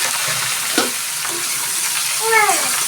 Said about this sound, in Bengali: এবার হচ্ছে সেই বাটানো শাক দিয়ে